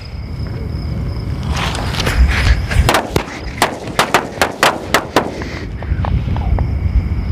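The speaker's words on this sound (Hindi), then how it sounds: "जलाते हैं बिग बिजली बम की लड़ी को काफ़ी मोटे क्रैकर हैं" A string of big bijli bomb firecrackers going off during Diwali: a loud rapid run of sharp close bangs over crackling, the blasts coming evenly spaced at the end.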